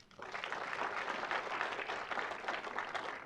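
Audience applause in the legislative chambers, a dense, steady clapping that swells for a few seconds, close and sustained throughout.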